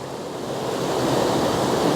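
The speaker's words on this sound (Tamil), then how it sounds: "தண்ணி எப்படி விழுது பார்த்தியா?" Waterfall pouring down beside a stream, a steady broadband rush of falling water that swells slightly louder and continues unbroken with no voices.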